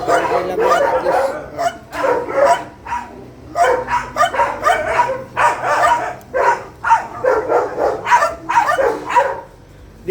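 Many pet dogs bark and yip together outside a house in the Philippines, with overlapping bursts and some whimpers, loud and close, running continuously with short gaps.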